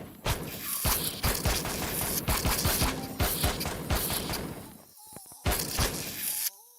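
Gunfire from a weapon in the sci-fi survival game Empyrion, a run of repeated sharp shots in bursts, loud and close, with a short pause before a final volley.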